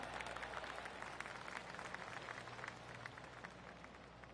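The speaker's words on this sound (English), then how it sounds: "I can hear the golf claps around the course." Steady golf crowd applause in the video game PGA 2K25, a dense patter of many hands clapping at moderate volume with a low hum underneath, continuous throughout.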